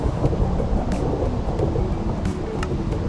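Steady rain pours with low rumbling thunder in the video game Minecraft, a dense continuous wash with a few faint sharper crackles, with no voices over it.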